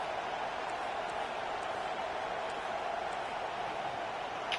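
Stadium crowd in a college football video game, Texas A&M at Texas, roars in a dense, steady wash of cheering noise that holds level throughout with no breaks.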